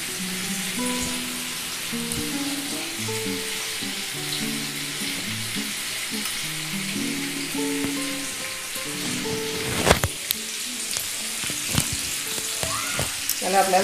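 Chicken tangdi kebab, drumsticks coated in full masala, shallow frying in oil, a loud continuous sizzle and spatter with soft background music, then a few sharp clinks and stirring knocks near the end.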